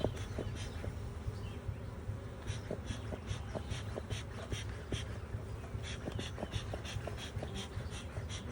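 Steady buzzing of many bees close by, a dense humming swarm with small flickers and pulses throughout, no voices.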